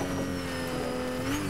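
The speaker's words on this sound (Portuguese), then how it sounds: "Olha lá a barulheira desse carro, galera." A car engine in the Fortnite video game roars loudly and steadily for the whole moment, a constant droning tone with no break.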